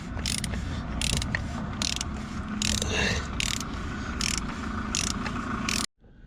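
A ratchet wrench tightens the oil drain plug during a full service on a Volvo V40 D2, giving a steady run of loud, close ratcheting clicks in regular bursts that stop sharply near the end.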